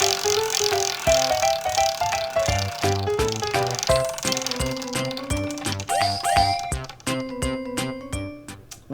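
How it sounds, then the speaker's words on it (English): A prize wheel being spun, a fast run of clicking ticks under bright, jingly music that slow and spread out as the wheel winds down. "let's spin our wheel and see if we can get 1 step closer"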